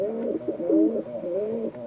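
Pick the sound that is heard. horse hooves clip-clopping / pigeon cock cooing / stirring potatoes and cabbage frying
pigeon cock cooing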